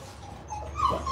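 A bulldog whimpers in short high whines that rise toward the end, close by over a low steady background rumble.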